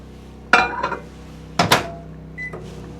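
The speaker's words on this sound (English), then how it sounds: "I have the microwave going." Microwave oven powered by a lightweight 4000 watt PROYAMA portable generator: a low steady hum runs beneath two sharp clattering knocks and a brief beep-like tone near the end, with no talk.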